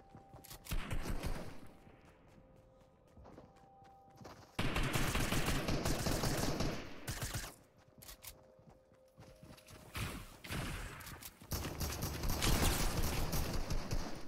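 Bursts of automatic rifle fire in an online shooter during a battle-pass session, with clustered rapid shots, loud near volleys alternating with quieter gaps and scattered distant popping.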